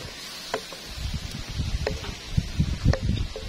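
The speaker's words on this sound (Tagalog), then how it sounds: "And it's very windy here" Strong wind blowing outdoors during outdoor cooking of bam-i, a continuous gusty rush of air buffeting the microphone, with small rustles and knocks scattered on top.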